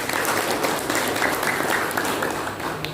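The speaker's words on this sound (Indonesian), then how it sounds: "Tepuk tangan buat Pak Haji Tangsreng." Loud, dense applause from a crowd at an Indonesian community organization gathering on a field, many hands clapping steadily and close for the whole stretch with no speech.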